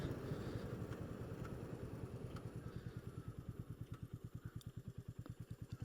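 A Royal Enfield Meteor 350 with an undersquare single-cylinder engine thumps along at a low, even rhythm, the pulses growing more distinct and regular as it idles and pulls away, fairly quiet and close.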